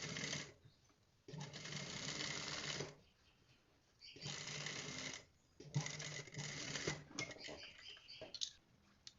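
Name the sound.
sewing machine stitching trouser seam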